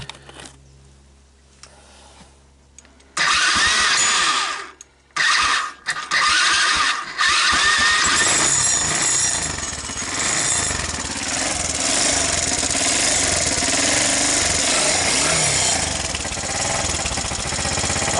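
A Sunl 110ST ATV's small engine, bought cheap at a garage sale, catches after a few quiet seconds and roars loudly up close, stumbling briefly before settling into a steady, buzzing run.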